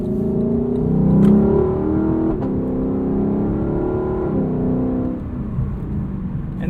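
A 2018 Lexus LC 500's front V8 pulls hard in normal mode, a loud throaty engine drone rising in pitch through the gears, heard steadily from inside the cabin with no voices.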